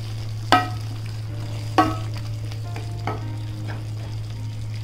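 Spoon stirring tomato and potato masala for chana gravy in a pan, with a few distinct scraping knocks against the pan over a steady low frying sizzle and hum, no talking.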